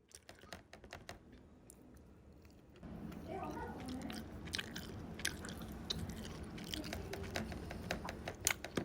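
Someone chews a Nathan's hot dog up close, with quiet ticking that grows into repeated wet, crunchy bites and squishy mastication, while people talk over it.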